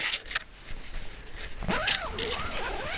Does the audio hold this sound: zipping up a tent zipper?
yes